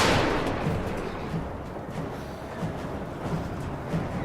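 Gunfire in the video game Indiana Jones und der große Kreis: a dense, noisy burst opens, then rough repeated blasts and rumble follow at an even, fairly loud level.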